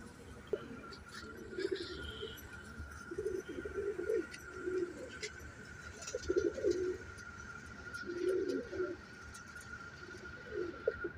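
Soft, repeated cooing calls from a pigeon, arriving in short rolling bursts every second or two over a faint steady hum, with no talking.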